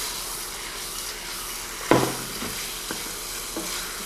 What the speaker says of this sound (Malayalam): ചിക്കൻ ക്യൂബ്സ് ഇട്ടതിന് ശേഷം നമുക്ക് നന്നായിട്ട് ഒന്ന് മിക്സ് ചെയ്യാം